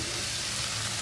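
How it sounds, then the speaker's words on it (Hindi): Chicken pieces frying in a pan over lightly browned onions, a steady close hiss of sizzling oil filling the short moment with no voices. "चिकन को हम 5 से 6 मिनट फ्राई करेंगे।"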